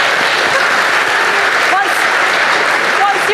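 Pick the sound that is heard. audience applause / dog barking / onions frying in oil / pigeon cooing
audience applause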